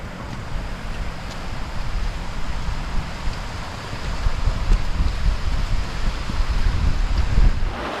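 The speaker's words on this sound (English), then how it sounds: "This wind." Strong wind buffets across a cold, snowy hillside on Kinder Scout, a loud continuous roar and microphone rumble that gusts harder toward the end, with no talk over it.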